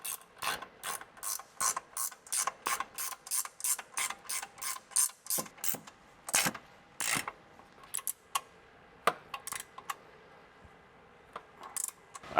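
Socket ratchet tightening nuts while installing a leveling kit on a Toyota Tacoma, a rapid run of evenly spaced clicks that thins into scattered single clicks, close and crisp with no talking.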